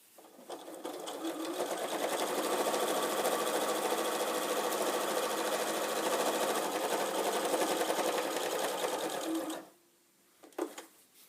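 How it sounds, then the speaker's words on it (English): Sewing machine stitching a straight zigzag seam close to the edge of two fabric pieces for a fabric pumpkin: a steady, fast mechanical rattle running continuously for nine seconds, then stopping with a couple of faint clicks. "you're going to sew very, very close to the edge of these two, right down the side"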